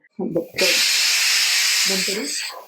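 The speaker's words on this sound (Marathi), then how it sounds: "2 शिट्ट्या झालेल्या आहेत. आपण कुकर बंद करूया" Loud, continuous hiss of steam escaping a pressure cooker cooking pigeon peas, lasting about two seconds, with brief voices before and near the end.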